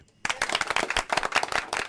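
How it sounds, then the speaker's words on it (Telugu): A group of people claps on a radio entertainment show, a sudden burst of quick, uneven, close claps that starts after a brief quiet moment and keeps going steadily. "ఏంటవి చప్పట్లు"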